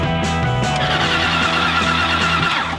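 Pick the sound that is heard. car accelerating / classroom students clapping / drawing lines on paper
car accelerating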